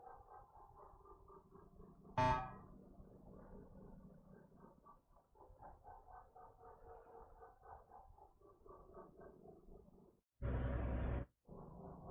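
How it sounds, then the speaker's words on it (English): In the Star Trucker video game, a truck horn gives two blasts: a brief sharp honk near the start and a longer steady one near the end, both over a low engine drone, with no talking. "Visibility is awful until I honk."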